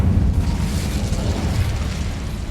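Spell fire roars in a closed mine in Hogwarts Legacy, a loud, rumbling burst of flame and booming crackle that holds steady for the full few seconds with no talking over it.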